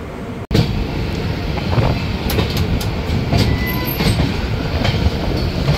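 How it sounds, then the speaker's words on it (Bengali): Mithila Express pulling out of Sagauli Junction, heard from inside a 2AC coach as a loud, steady rumble of wheels on rail with faint clicks and a brief squeal. "আমাদের ট্রেন কিন্তু ছাড়লো সাগৌলি জাংশন থেকে।"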